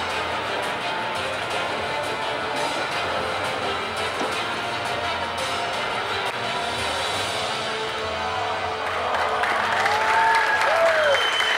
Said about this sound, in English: An endless applause is for you.